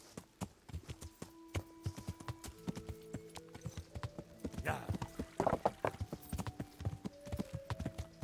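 Horse hooves clip-clopping in a steady walking rhythm in Kingdom Come Deliverance, close and even, over sustained game music tones, with someone talking briefly.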